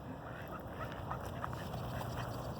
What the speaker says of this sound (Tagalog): Look at the duck guys.